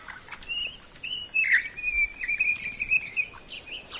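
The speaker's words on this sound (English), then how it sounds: "The spiny-cheeked honeyeater is quite a chatty creature." Spiny-cheeked honeyeater calling in the Western Australian outback, a run of clear, chattering whistled notes that rise and fall over about four seconds, fairly close against a faint, quiet bush background.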